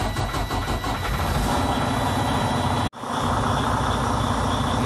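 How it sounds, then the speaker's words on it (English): A Freightliner Cascadia's DD15 diesel engine starts and runs with a loud, close, steady rumble. The sound cuts out briefly around the three-second mark, then resumes at full strength. "Now it's time to start the engine."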